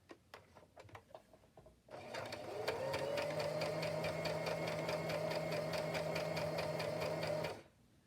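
A sewing machine runs steadily for about six seconds, stitching a zigzag around the outer edge of a fabric piece, with a continuous whirring hum and rapid mechanical ticking, close and clear after a few quiet handling sounds.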